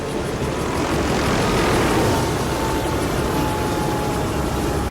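Helicopter lifting a tractor trailer in an action movie, a dense, loud, continuous rotor-and-engine roar that holds steady for several seconds with no voices over it.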